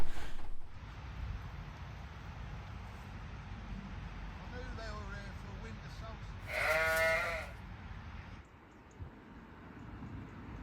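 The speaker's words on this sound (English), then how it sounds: "I'm in a field full of sheep." Sheep bleating in a field beside a narrowboat towpath, a loud nearby cluster of wavering bleats over steady low rumbling background noise, with a voice talking.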